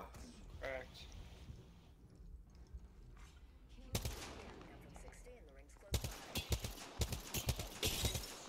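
Video game gunfire arrives in sudden loud bursts, first a single blast and then rapid volleys of shots, mixed with players talking.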